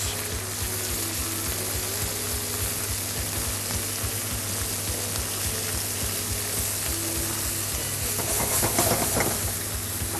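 Soy sauce and oyster sauce hit chopped vegetables in a hot pan for beef noodles, giving a loud, steady sizzle and hiss that runs throughout with no talking.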